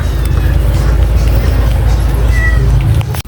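A cat meows near a parked motor tricycle, its calls rising over a loud, steady low rumble of engine or traffic noise with faint voices in the background.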